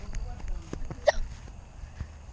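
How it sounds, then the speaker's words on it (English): One short hiccup heard outdoors in a forest, close to the microphone, amid rustling and footsteps with a voice nearby. "I don't like the hiccups."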